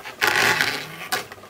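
Drum carder working raw fleece, giving a scraping, rubbing whir with a faint twang, in one long sweep followed by a brief second pass near the end.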